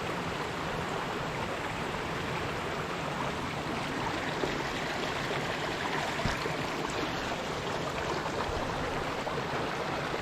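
A steady, close woodland stream flows after an ice storm in midwinter, a continuous even rush and gurgle of water that runs unbroken without voices.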